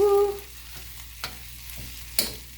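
Rice frying and browning in a pan for a Chinese dish gives a soft, low sizzle, broken by a few sharp clicks as a utensil stirs and scrapes the pan. No one speaks.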